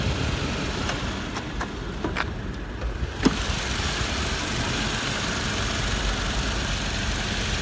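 A Toyota Land Cruiser Prado 150's 2.7-liter VVT-i petrol engine idles with a steady low rumble, close by, punctuated by a few clicks and a single sharp knock partway through.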